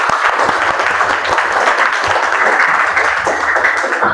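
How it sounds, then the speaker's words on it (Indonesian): Classroom of students applauding together, a loud, steady wash of clapping sustained throughout without pause. "Tepuk tangan dong untuk kita semua."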